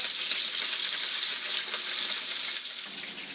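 A steak sears in olive oil in a pan, giving a steady, close hissing sizzle that continues without a break and drops slightly in level near the end, with no talk.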